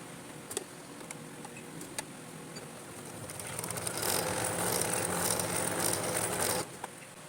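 A sewing machine stitches fabric, starting with a few faint ticks, then running in a steady, fairly quiet whirring stretch for a few seconds before stopping.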